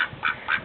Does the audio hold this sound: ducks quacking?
yes